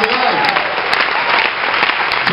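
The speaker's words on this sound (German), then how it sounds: "wenn Sie einen sehr lauten, aufbrausenden Applaus jetzt bitte starten könnten" Loud, sustained applause from a live audience at a civic awards ceremony, a dense unbroken wash of clapping filling the whole stretch with no pauses.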